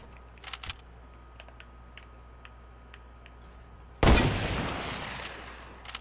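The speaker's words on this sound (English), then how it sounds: "this gun shoots so slow" A single loud blast from a slow-firing gun in the Fortnite video game, abrupt and near, followed by a decaying rumble, with faint clicks and ticks beforehand.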